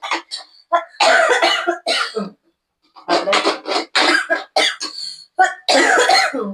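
A person coughs repeatedly in loud, close bursts, roughly a dozen harsh hacks in clusters separated by short pauses, while making sandwiches at home, with no talking heard.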